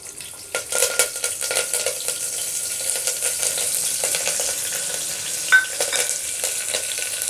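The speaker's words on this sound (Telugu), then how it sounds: "ఎండుమిరపకాయలు, ఫ్రై చేసుకోవాలి." Onions, curry leaves, mustard seeds and dried red chillies frying in a pan for gongura boti curry, a steady close sizzle broken by repeated spatula stirs and scrapes.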